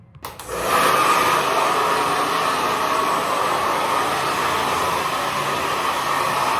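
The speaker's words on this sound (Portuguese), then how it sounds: "Vou bater o secador quente pra ele dar uma secada." A hot hair dryer switches on, rises within a second into a loud, steady, close whooshing roar, and keeps blowing evenly with no voices.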